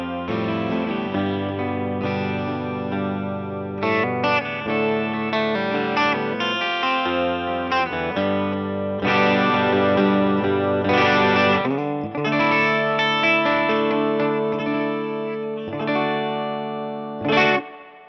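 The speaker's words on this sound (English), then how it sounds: "It really has the greatest 12-string sound." A PRS Hollowbody II 12-string guitar rings through effects with chorus and distortion, shimmering strummed chords and picked phrases rising and falling for the full stretch, loud and close with no talking.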